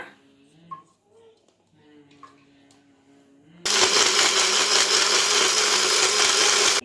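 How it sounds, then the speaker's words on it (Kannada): A small mixer jar grinding half a jar of coconut into paste starts abruptly after a few quiet moments with light kitchen sounds, then roars loudly and steadily until it stops. "ಈ ಚಿಕ್ಕ ಜಾರ್ನಲ್ಲಿ ಒಂದು ಅರ್ಧ ಜಾರ್ ಆಗೋಷ್ಟು ತೆಂಗಿನಕಾಯಿ ಮಾತ್ರ ಈಗ ಇದು ಪೇಸ್ಟ್ ಮಾಡ್ಕೊಂಬಿಡೋಣ"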